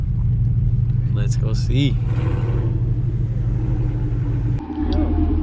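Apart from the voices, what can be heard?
Camaro SS car engine rumbling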